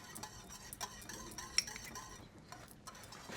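Whipped butter being stirred into a melting red wine butter sauce in a pan, with faint, irregular scrapes and light taps of a utensil in a quiet room.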